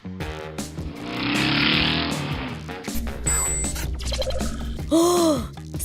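A pink cartoon car speeds past at over 90 km/h after failing to stop for a pedestrian, a brief roaring engine whoosh under music and cartoon effects, followed by a gasp-like vocal sound.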